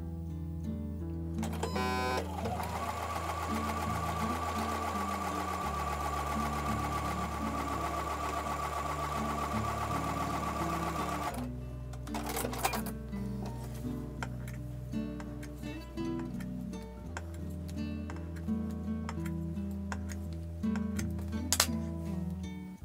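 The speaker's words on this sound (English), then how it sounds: "I'm going to take those over to the sewing machine and I'm going to sew a 1/4-inch seam" A sewing machine stitches a quarter-inch quilt seam for a block, running in a steady close mechanical whir that briefly pauses and changes pitch partway through, then starts again.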